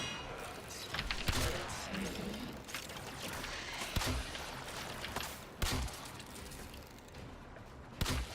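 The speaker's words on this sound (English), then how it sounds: "All you hear is shooting." Warframe gunfire rattles in bursts close by, with several sharp louder shots standing out at intervals over continuous rapid shooting and game noise, with a voice speaking quietly under it.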